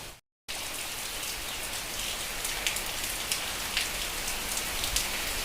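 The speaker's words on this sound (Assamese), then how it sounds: "ইয়াত যে ধামাকা বৰষুণ পৰিছে" Heavy rain pours down in a dense, steady hiss with scattered louder drop impacts, continuing without pause after a brief dropout at the very start.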